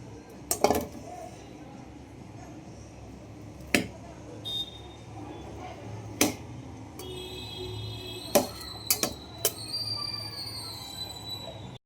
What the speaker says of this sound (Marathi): आता तुम्हाला जसे आवडते तसे त्याचे काप करून घ्यायचे